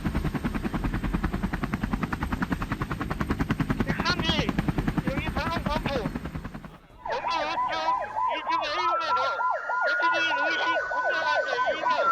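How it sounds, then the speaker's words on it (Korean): An emergency medical helicopter, a dedicated air ambulance carrying advanced emergency treatment equipment, flies during a safety drill. Its rapid, steady rotor chop runs throughout, then a wailing siren rises and falls over it in the second half. "이 헬기는 응급의료 기술의 최신의 기체로서 응급 환자 이송뿐만 아니라 첨단 응급 처치 장비가 탑재되어 있는 응급의료 전용 헬기입니다"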